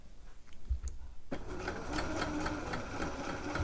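A sewing machine stitches along the bottom of a dress pocket, starting after a brief quiet pause with a close, steady mechanical whir and rapid needle rattle that runs on continuously.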